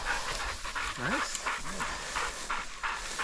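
A hunting dog pants close by during a desert quail hunt in Arizona, with quick rhythmic breaths repeating steadily, a couple of short whimpering whines and a brief spoken word from a person.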